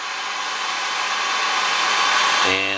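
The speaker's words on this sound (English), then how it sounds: "what you're going to need is a heat gun. I think a good hair dryer will probably work too on the high setting" Heat gun or high-setting hair dryer blowing hot air onto heat-shrink wrap around LED wiring connections, a steady loud broadband whoosh throughout, with a motor tone shifting near the end.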